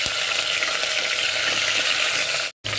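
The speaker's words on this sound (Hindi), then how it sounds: "और इसे हाई हीट पर 5 से 7 मिनट तक भूनेंगे" Mutton pieces frying over high heat for rum gosht, a loud, steady sizzle with constant crackle filling the pan, broken by a brief gap near the end.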